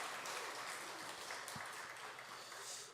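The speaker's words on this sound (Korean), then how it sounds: "박수 한번." A church congregation applauds in a broad, even wash of clapping that sounds somewhat distant and holds steady throughout without any talk.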